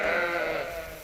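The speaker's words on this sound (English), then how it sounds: "It's feeding time at the farm." Sheep specially fed for lamb production bleat at feeding time on a farm, a continuous, fairly loud overlapping chorus of nasal bleats with no talking.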